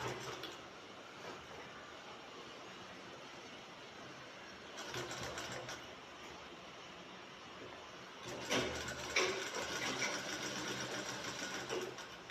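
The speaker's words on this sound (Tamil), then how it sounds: "ஆல்ரெடி நம்ம தையலுக்காக விட்டுருந்த துணியில் தைக்கிறோம் 1/4 இன்ச் அளவுக்கு" A sewing machine stitching a shirt collar, running in a steady mechanical whir with rapid needle clatter, stopping and restarting in short bursts, fairly faint and close with no talking.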